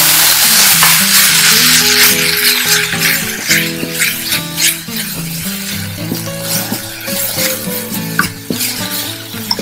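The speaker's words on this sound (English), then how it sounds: "I am going to put a little bit of more of the asafetida, and then I'm going to put in my ginger" Asafetida and ginger frying and being stirred in a pan for a peas filling for Bengali kochuri, a steady close sizzle with scraping spoon strokes and light pot clatter throughout.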